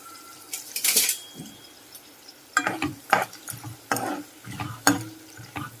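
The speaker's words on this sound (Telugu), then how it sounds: "పచ్చిమిర్చిని అయితే ఫ్రై చేస్తున్నానండి" Green chillies fry in a pan with a soft sizzle beneath repeated scraping and clattering of a utensil against the metal, loud and close, in uneven bursts.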